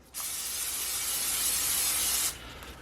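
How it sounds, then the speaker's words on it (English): Eggs sizzle in a hot pan that also holds leftover noodles for homemade chow mein, a loud, steady hiss that starts abruptly, holds for about two seconds, then cuts off sharply. "I'm going to fry up a couple of eggs."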